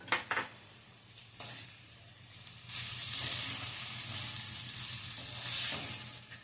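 Peanuts, field beans and fresh pigeon peas being sautéed in a pan, a steady sizzle and hiss with brief stirring scrapes at the start, swelling louder in the second half, no voices.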